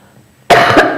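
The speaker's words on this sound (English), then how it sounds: "If I'd stopped talking, I'd stop coughing." Someone speaking about health care coughs into the microphone: a single loud, harsh burst after a moment of near silence, with a second short hack at the end.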